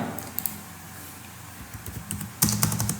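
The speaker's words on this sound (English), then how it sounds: "So here you just type 45," Computer keyboard typing, a few close soft key taps at first, then a brisk burst of several louder keystrokes near the end.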